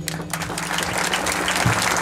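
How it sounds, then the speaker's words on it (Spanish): Audience applause after a speech at a school event, with steady, dense clapping that holds at an even level for a couple of seconds. "Gracias por esos aplausos"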